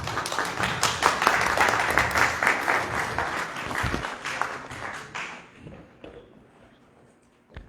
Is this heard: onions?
no